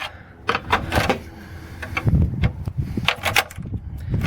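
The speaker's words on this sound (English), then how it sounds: "Use the screwdriver end of the lug wrench to peel away the hubcap." Metal scraping and clicking as the flat screwdriver end of a lug wrench pries a hubcap off a 2006 Toyota Matrix or Pontiac Vibe wheel, a run of short, close scrapes and knocks heard alone.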